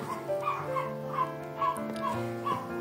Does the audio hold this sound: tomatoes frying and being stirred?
no